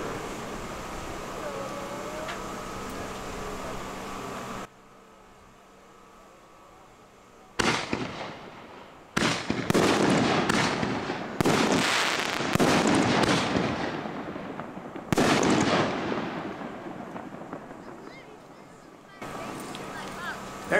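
Excalibur consumer fireworks, extra large 5-inch can shells, go off outdoors in a run of loud booming bursts with crackling tails, the blasts following one another after a quieter stretch of background noise.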